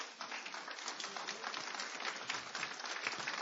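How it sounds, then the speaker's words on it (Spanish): A church congregation applauds in praise, a steady wash of many hands clapping at a moderate, somewhat distant level, even and unbroken from start to finish. "Démosle un aplauso al Señor."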